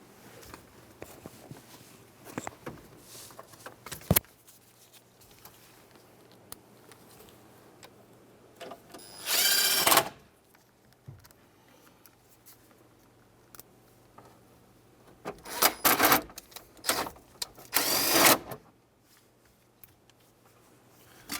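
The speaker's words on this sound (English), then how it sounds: "we can put our two screws back in." Two screws are driven back into the dashboard of a 1992-1996 Ford F-150 pickup: sparse faint ticks and clicks in a quiet cab, broken by a few short, louder scraping bursts of the screwdriver at work.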